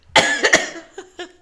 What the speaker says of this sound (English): don't cough in the mic, please